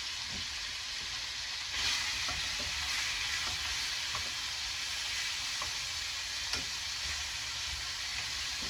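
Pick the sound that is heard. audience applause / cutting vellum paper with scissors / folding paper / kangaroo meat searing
kangaroo meat searing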